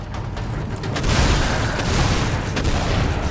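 Shotgun fire from a 12-gauge in the Lara Croft and the Guardian of Light video game, Fortress of Xolotl stage: a loud, dense, continuous roar of blasts and booms with no clear gaps, close and steady throughout.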